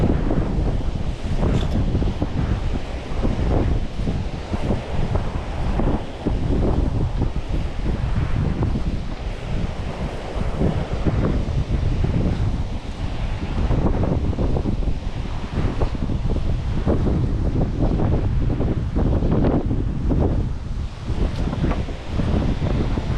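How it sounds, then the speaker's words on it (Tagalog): Powerful wind blows steadily against the microphone for a long stretch, a loud roaring rush with surf-like washes underneath. "Lakas pa rin ang hangin."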